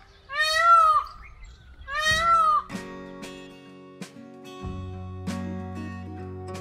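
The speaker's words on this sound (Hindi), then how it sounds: "मोर की जो चहचहाहट है वो लगातार आ रही है।" Peacocks at a temple in Vrindavan give two loud, ringing nasal calls about a second apart. Bell-like resonant tones and chimes follow and linger.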